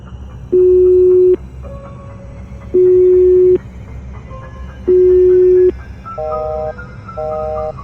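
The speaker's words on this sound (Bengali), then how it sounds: "প্রান্ত ফোন ধরছে না কেন? আর একবার দিয়ে দেখি তো।" A phone call rings out unanswered in an animated horror story, with three loud, evenly spaced electronic ring tones followed by shorter, softer melodic beeps, heard close with no voices.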